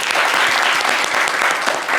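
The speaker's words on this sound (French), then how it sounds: "applaudissements pour Inos, s'il vous plaît." Steady, dense applause from a crowd, clapping continuously throughout at a loud, even level.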